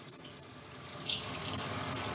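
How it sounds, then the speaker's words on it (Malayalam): Water streams steadily from a pull-out kitchen sink faucet on a piano-type sink, a close, continuous splashing hiss that swells louder about halfway through and carries on with no voices. "വെള്ളം വരും നമുക്ക് എവിടെ വേണോ കൊണ്ടുപോയിട്ട് വൃത്തിയാക്കാനുള്ള ഓപ്ഷൻ ഉണ്ട്"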